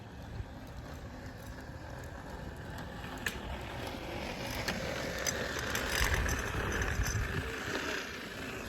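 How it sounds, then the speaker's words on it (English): A stroller wheel with a water bottle jammed in it rattles and buzzes continuously as the stroller is pushed, a steady, moderately loud whirring clatter with no talking. "He stuck a water bottle in his wheel, so it sounds like a motorcycle"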